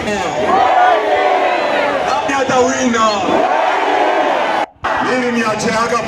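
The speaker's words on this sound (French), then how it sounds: "la foule présente dans le meeting de Moïse Katumbi Chapwe" A dense throng at Moïse Katumbi Chapwe's political rally chants and shouts in loud, sustained unison, broken by a brief dropout near the end. A leader calls out a chant line to the crowd.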